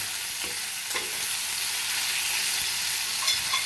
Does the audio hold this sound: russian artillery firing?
no